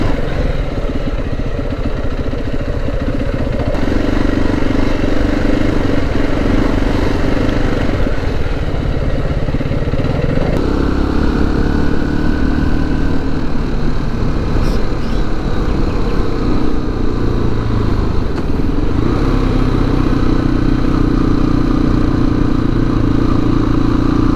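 A motorcycle ridden on an unpaved road in the Jasen nature reserve gives a close, steady engine drone over gravelly rumble, with the pitch rising and falling as it goes and no voices.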